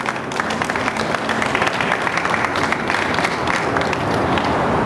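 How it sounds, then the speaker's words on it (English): Crowd applause at an anti-fracking rally where a moratorium motion is backed, dense and steady for the whole stretch with a loud rumble of voices and cheering mixed in. "Another round of applause for Alison."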